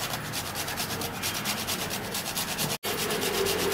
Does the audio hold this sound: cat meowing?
no